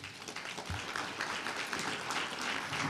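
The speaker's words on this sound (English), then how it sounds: "You should be applauded for coming here tonight." Audience applause fills a hall at a community drug awareness summit, a steady dense clatter of many hands clapping at moderate volume, sustained for several seconds without letup.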